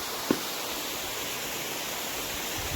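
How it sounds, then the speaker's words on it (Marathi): A waterfall near the Rudreshwar Mahadev caves gives off a constant broadband rush, steady and even throughout, with one brief click near the start and no voices. "आपण पोहोचलेलो आहोत आणि लकीली धबधबा चालूच आहे."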